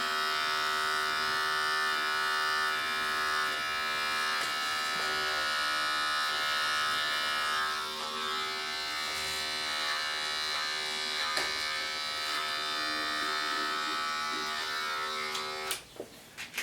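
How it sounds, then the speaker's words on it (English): An electric hair clipper buzzes steadily and loudly throughout a home back-and-sides haircut, its even hum briefly dipping as it moves over hair and ending with a few handling knocks, with no talking. "go back to the clipper, open up the lever and just gently take out the edge"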